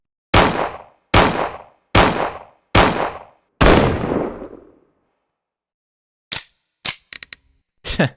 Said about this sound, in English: It sounds just like the Colt Single Action Army because that's what it's using in order to depict it.